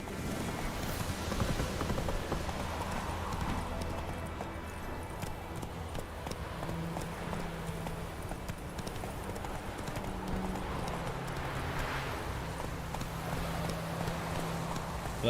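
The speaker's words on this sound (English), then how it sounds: "Let my horse stamina regenerate as I go." Horse galloping in The Witcher 3 video game: steady, loud rhythmic hoofbeats run throughout alone, with a low game soundtrack or ambience underneath.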